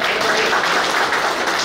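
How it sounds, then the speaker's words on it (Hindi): Audience applause at a village gathering where new members are welcomed onto a stage, steady dense clapping that stays loud from start to finish with no pauses. "समस्त ताली मारिबा"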